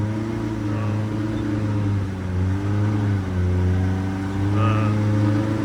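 Polaris Pro R side-by-side with a replaced differential and upgraded steering, driven on grass: steady loud engine drone with slight rises and falls in pitch, close by, under occasional talk.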